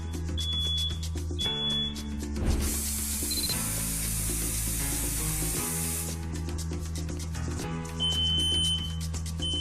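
Two expensive home smoke detectors sound off when tested with a spray that mimics smoke: shrill, high-pitched beeping repeats in steady bursts, broken midway by a loud, sustained hiss of the spray, with no talking.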